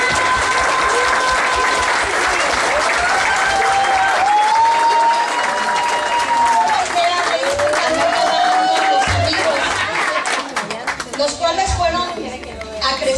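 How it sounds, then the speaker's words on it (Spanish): Sustained audience applause fills a dinner dance with an 80s theme. The clapping is loud and continuous, with a few high whistles or cheers over the crowd before it thins out near the end. "quiero darle un aplauso al señor Ignacio y esposa"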